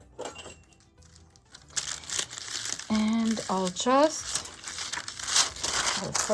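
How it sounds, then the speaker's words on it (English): Paper for a junk journal is torn along a ruler, giving close crinkling and ripping bursts that continue in uneven strokes while someone speaks briefly over them. "And to trim it, instead of cutting the edge with a scissor, I'm gonna use my ruler."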